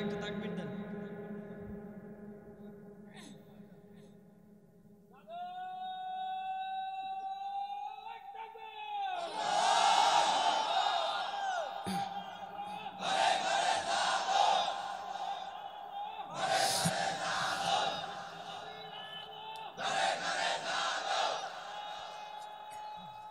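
At a religious gathering in Madaripur, a crowd shouts the takbir, Allahu Akbar. A lone voice leads with a sustained call, then several loud collective shouts answer in a steady call-and-response rhythm.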